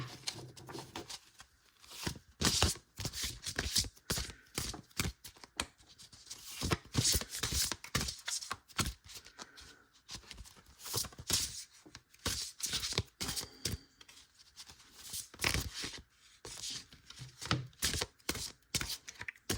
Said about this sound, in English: They're very large cards, a little difficult to shuffle